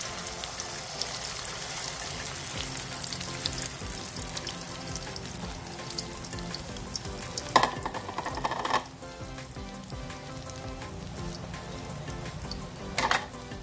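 Eggs fry in hot cooking oil in a pan, giving a steady, moderate sizzle with a couple of sharper crackling flare-ups, and no voices.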